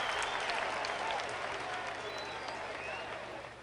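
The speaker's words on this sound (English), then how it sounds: "And you hear that cheering." Crowd cheering and applause from the video game Air Hauler 2 at the end of a completed cargo flight job, a steady dense roar of many voices and clapping that fills the whole stretch at even loudness and fades slightly at the close.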